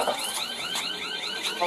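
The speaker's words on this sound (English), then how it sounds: "Is that your alarm?" An electronic alarm going off nearby, a repeating warbling siren-like tone sweeping up and down in quick cycles, with voices heard alongside it.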